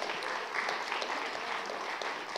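Applause from a church congregation at a Baptist service in Mansfield fills the space with steady, dense clapping that holds at an even level throughout, with no voices standing out.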